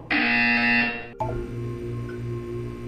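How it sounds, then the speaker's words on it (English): A loud, steady electronic buzzer in the video game Portal 2 drones for about a second, then cuts off, leaving a low hum and faint background tones. "You will hear a buzzer."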